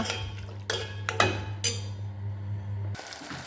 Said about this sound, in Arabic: ونحركها ونخلي ياك الفلفل والطماطم يتقلوا شوي